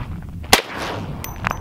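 A single sharp, loud gunshot from a .458 rifle fired at metal plates outdoors, a sudden crack followed by a short decaying rumble, with faint metallic pings soon after.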